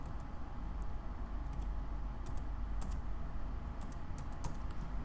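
Typing on a computer keyboard while a Flutter plugin is installed in Android Studio, heard as scattered light key clicks over a steady low background hum, with no talking.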